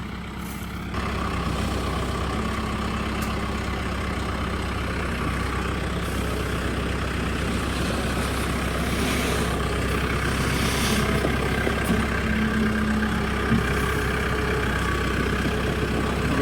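A farm tractor fitted with a sprayer idles steadily while maneuvering near a fence, a low, continuous engine rumble at moderate distance with small load changes and no talking.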